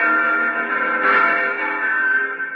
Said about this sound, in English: There are the church bells.